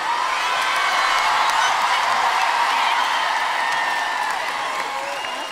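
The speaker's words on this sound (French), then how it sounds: "C'est beau des mômes qui applaudissent leurs profs quand même" Children applaud their music teachers at a big choir concert, loud steady clapping mixed with whoops and cheers from a large young crowd, tapering slightly near the end.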